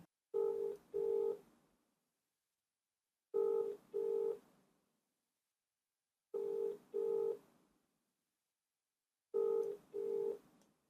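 Telephone dialing tones, a pair of steady electronic beeps repeated four times at even intervals with silent gaps between, alone and clear with no talk.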